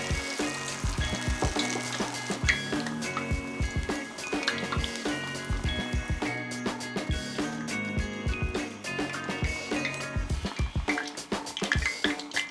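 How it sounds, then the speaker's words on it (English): Battered vegetable pieces deep-frying in a pot of hot oil, with a steady loud sizzle and crackle, bubbling and popping continuously throughout. "Dip each piece into the batter and gently slide into the oil."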